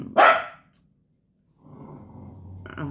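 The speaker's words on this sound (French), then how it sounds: "Je suis désolée, c'est mon chien." A single loud bark from a pet dog indoors opens, followed by silence and then a low rumbling growl-like sound building near the close.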